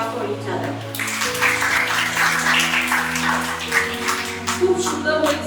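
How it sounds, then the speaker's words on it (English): At an Independence Day celebration at a hotel management institute, an audience claps steadily throughout, with people talking over the applause and a low hum running beneath it. "Let's clap for each other."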